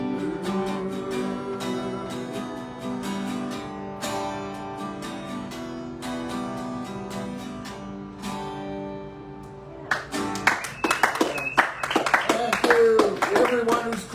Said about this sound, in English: Everyone who's clapping, thank you